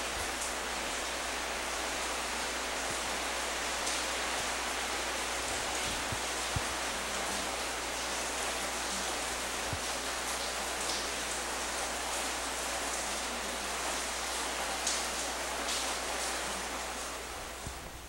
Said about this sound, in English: it started raining and I wanted to enjoy the rain and the winds.